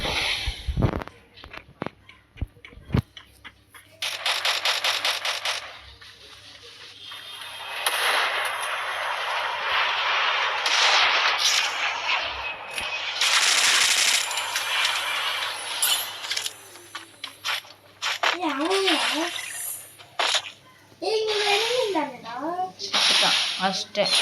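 A video game sniper rifle fires several sharp, distant-sounding shots mixed with hissing game effects and bursts of noise, while players talk and laugh over the action.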